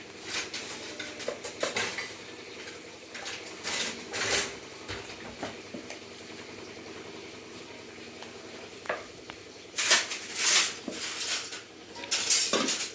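Ragi mudde (finger millet dough) being mixed in a pot and shaped into balls, heard as scattered clanks and scrapes of a utensil against metal, with a few louder clattering bursts and quiet stretches between them.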